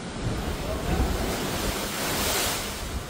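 Strong, oversized waves pound the shore in a continuous roar of surf, loud and dense with wind rushing across the microphone, with no voices present.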